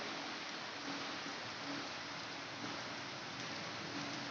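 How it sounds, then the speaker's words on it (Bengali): Steady heavy rain pours down in a dense, unbroken hiss, loud and close, with no voices. "দেখতে পাচ্ছ কি হারে বৃষ্টি হচ্ছে এখন দুপুর দুটো বাজে জানো বিশাল ভাবে বৃষ্টি"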